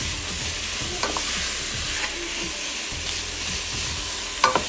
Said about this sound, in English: I am going to just cook the beef until it browns